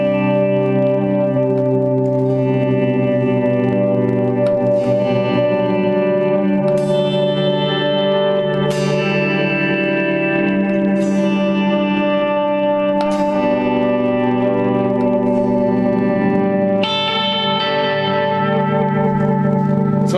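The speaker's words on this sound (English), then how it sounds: "a very heavy tape echo" An electric guitar plays a swell setting through a very heavy tape echo, with sustained chords swelling in and ringing into thick repeating echoes and reverb. The sound is loud and continuous, with new chords entering every few seconds.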